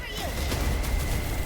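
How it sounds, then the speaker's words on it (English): Rapid bursts of gunfire in Honkai Star Rail crack loudly in quick succession over a dense, noisy battle background. "They're shooting."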